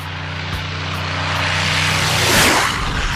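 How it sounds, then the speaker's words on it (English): A propeller plane takes off right beside a reporter, its engine droning loud and close with a steady hum that swells and sweeps past near the end. "This reporter nearly gets hit by a plane taking off"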